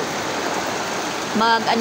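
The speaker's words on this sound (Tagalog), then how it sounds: "Ang lakas ng ulan." Heavy rain pouring onto a tarp during outdoor laundry, a steady dense hiss of falling water close by, with a voice briefly speaking near the end.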